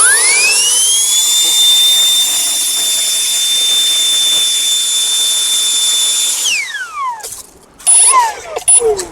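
An OGERY cordless handheld leaf blower whines at a high, steady pitch for several seconds, then spins down as its motor slows, followed by a few short bursts as the trigger is blipped.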